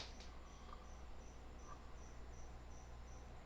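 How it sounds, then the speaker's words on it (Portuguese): A cricket chirps steadily in a quiet room, its regular pulsed trill faint but continuous throughout, with no talking. "Tá, é um grilo."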